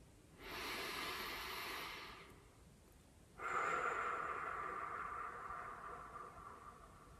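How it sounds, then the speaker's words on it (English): Two slow breaths drawn in through the nose and let out through the mouth, heard up close as soft airy hisses, the first about two seconds long and the second longer, with a short quiet gap between them. "another detail that we're doing already is nose in and mouth out"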